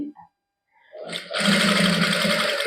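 A sewing machine stitches fabric for a palazzo trouser, starting up after a brief pause and then running in a loud, steady whir, close by.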